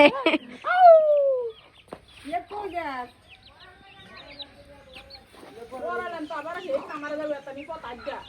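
Hens cluck and squawk at close range, one sharp loud squawk near the start, followed by quieter clucks mixed with people talking excitedly.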